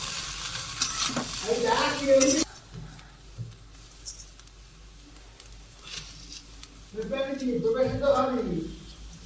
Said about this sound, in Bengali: এবারে ভালো করে মিক্সড করে নাও।